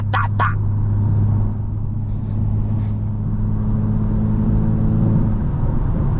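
A stage 2 tuned BMW M340i drives at night, its steady low exhaust drone near and loud, with two sharp crackling pops at the start and a faint crackle after.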